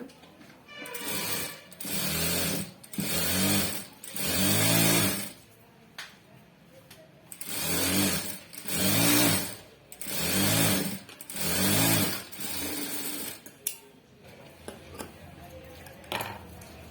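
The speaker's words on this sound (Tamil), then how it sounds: "கடி தையல் போட்டுக்கலாம் நம்ம." A tailor's sewing machine stitches a blouse in repeated short bursts of loud rhythmic whirring separated by brief pauses, with faint handling clicks between runs.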